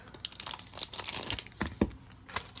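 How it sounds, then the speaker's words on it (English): Thin plastic bag wrapped around a basketball card crinkles and rustles up close in quick handled bursts, with a few sharper crunches as it is pulled open. "Looks like this is in a plastic bag."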